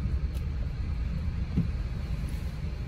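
Road traffic heard from inside a Peugeot 208, a steady low rumble of engine and tyre noise with faint passing vehicles, continuous and muffled throughout.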